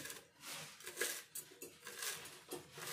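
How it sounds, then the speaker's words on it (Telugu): Knife cutting fresh coriander leaves on a board in a home kitchen, a series of soft, close taps and scrapes in an irregular rhythm, fairly quiet, with no talk. "కొత్తిమీర కూడా కొద్దిగా తీసుకొని చిన్నగా కట్ చేసుకోవాలి."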